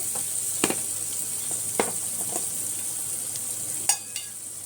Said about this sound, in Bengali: টমেটোটা একটু সেদ্ধ হোক তো টমেটোটা আমার সেদ্ধ হয়ে গেছে